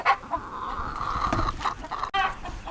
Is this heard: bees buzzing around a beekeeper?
no